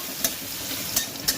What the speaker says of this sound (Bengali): পেঁয়াজ কুচিটা ছেড়ে দিয়েছি, এবার এটাকে একটু লাল লাল করে ভাজবো